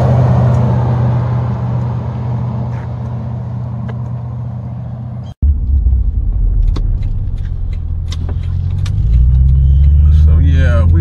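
A Toyota Tundra with a 5.7 liter engine and a 7-inch lift runs with a steady, loud low rumble, briefly cutting out midway before returning and swelling deeper toward the end.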